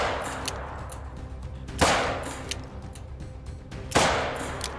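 Two pistol shots fired at a buffalo on an outdoor hunt, each a loud, close crack about two seconds apart with a short ringing tail, over faint background noise.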